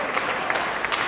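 Studio audience at a TV game show applauding, a brief burst of dense clapping close by.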